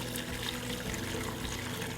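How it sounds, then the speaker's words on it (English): Chicken broth for soup pours through a sieve into a pot, a steady close splashing trickle of liquid that runs on without a break. "I'm going to put it through a sieve. And then I'm going to put it right into this bowl, into this pot."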